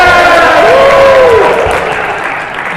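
Conference audience at a learning technology expo cheers and applauds loudly, a dense wash of clapping and voices with one rising whoop, easing slightly toward the end.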